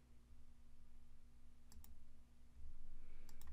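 A computer mouse gives a couple of quick, faint clicks, a close double click and then another pair later, over a low electrical hum in a quiet room.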